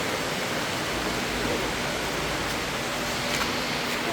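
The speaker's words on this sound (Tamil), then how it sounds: "இது தண்ணி வருது," Water flows from a spring inside one of the Ramayana caves in India, a steady, even rush of splashing water that fills the space with no talk.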